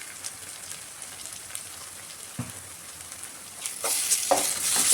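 Ginger garlic paste sizzles and fries in a pan for mutton gravy curry, a steady crackling hiss broken by a few stirring scrapes that grow louder toward the end.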